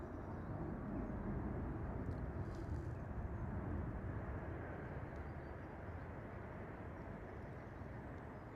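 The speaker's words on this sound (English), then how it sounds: "Etihad Dreamliner coming in from Abu Dhabi." An Etihad Boeing Dreamliner airliner from Abu Dhabi comes in to land at windy Manchester Airport, a broad, steady low roar of jet engines, distant and fairly soft, holding evenly throughout with a slight easing toward the end.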